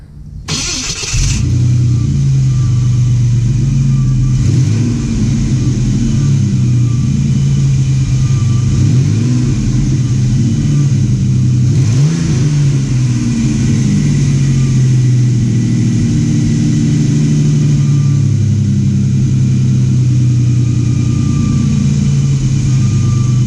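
A truck engine cranks and catches, then settles into a loud, steady, close idle with a deep throaty rumble and occasional light revs across more than twenty seconds, with no talking.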